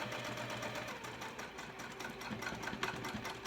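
A sewing machine stitches the seam of a fabric wristlet clutch, giving a fast, steady mechanical whir with rapid needle ticks, close and fairly quiet, with no one speaking.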